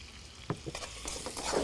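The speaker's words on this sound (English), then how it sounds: "These prawns will start caramelizing with the palm sugar." Prawns caramelizing with palm sugar, garlic and chili in a hot pan, a steady sizzle with a few scraping stirs and clinks, no voices.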